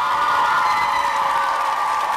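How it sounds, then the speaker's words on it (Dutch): Dutch television studio audience applauding for a guest on a 1994 RTL4 surprise show, a dense, steady wash of clapping mixed with crowd cheering that stays loud and even throughout. "nog één keer een lekker applaus voor onze Joop"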